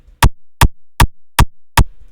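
Original kick drum punch sample: five dry, punchy hits at an even pace, each a sharp thump with a quick low decay and silence between.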